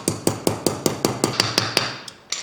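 A hammer repeatedly strikes a tapered wheel bearing race into the hub of a 1947-59 Chevy or GMC truck, about a dozen sharp, loud metallic blows in a steady rhythm, each ringing briefly before the next.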